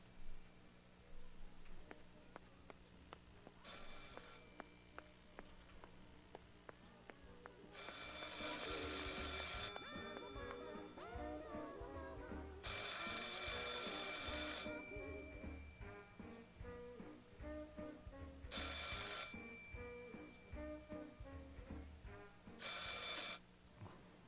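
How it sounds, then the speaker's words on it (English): An old telephone bell rings in the game Martha is Dead, several separated bursts of bright ringing with pauses between, moderately close over a low ambient music bed, with no talk. "I should pick up the phone but remain silent."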